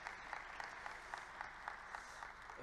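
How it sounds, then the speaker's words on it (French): Audience applause at a conference panel on the 2030 FIFA World Cup, steady dense clapping heard quietly at a distance, with no voices over it. "Des applaudissements."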